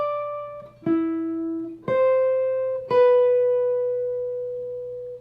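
A simplified melodic solo phrase is played on a single sustained-tone instrument: four clean notes, each struck and left ringing, stepping upward with a long final note that slowly fades, close and alone.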